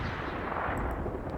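Bombing run explosions in Hell Let Loose, a dense, loud rumble of blasts and gunfire rolling continuously across a short stretch of battlefield noise.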